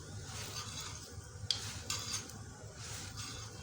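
An aloo mooli paratha crisping in ghee on a pan, a faint continuous sizzle with a couple of soft scrapes and rubbing touches.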